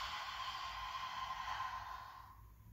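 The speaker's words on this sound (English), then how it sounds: "Exhale, tongue out." A single forceful exhale through an open mouth with the tongue out during yoga breathing, a close, breathy whoosh lasting about two seconds that fades out at the end, with no talking.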